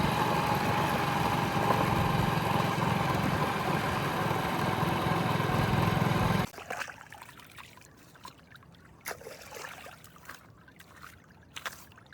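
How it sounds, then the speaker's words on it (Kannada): A field water pump motor runs with a loud, steady hum and rush of flowing water, then cuts off abruptly, leaving quiet outdoor ambience with a few faint clicks. "ಇವಾಗ ಏನಿದೆ ಮೋಟ್ರನ್ನ ಬಂದ್ ಮಾಡೋಕ್ಕೆ ಬಂದಿದ್ದೀನಿ"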